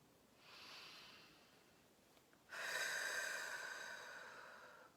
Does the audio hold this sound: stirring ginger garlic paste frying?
no